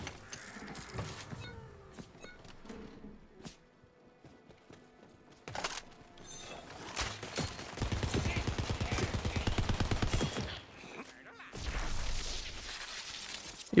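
Shotgun fire in Tiny Tina's Wonderlands mixes with busy game effects, a cluster of loud blasts and rattling bursts mid-clip between quieter stretches.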